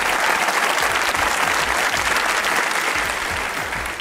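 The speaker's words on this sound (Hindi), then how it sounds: "ताली बजाएं फुरकान भाई के लिए" A studio audience gives loud, dense, steady applause for guest Furqan Qureshi on a Pakistani talk show, close and continuous throughout before easing slightly at the end.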